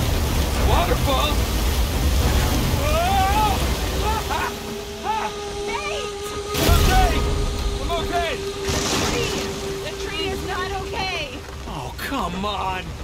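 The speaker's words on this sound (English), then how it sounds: "Waterfall! Waterfall!" Rushing water from a waterfall in the video game Uncharted 4, a broad steady roar running throughout beneath excited shouting voices and bursts of game sound.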